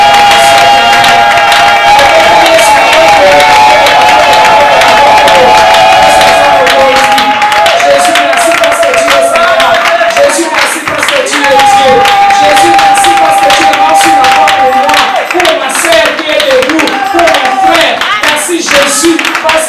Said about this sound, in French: Reçois les acclamations de Jésus.